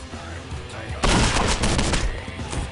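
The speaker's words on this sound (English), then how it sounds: "Shotgun." A burst of shotgun fire in the video game Postal 2, a loud sudden blast with a harsh noisy tail, following quieter game sounds.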